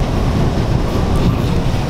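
A crowded MRT metro train in Manila rumbles along from inside the carriage, a loud, continuous low roar with steady wheel and rail noise.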